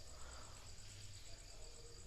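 Faint, steady insect chirping from a grasshopper, a continuous high trill in a quiet indoor setting.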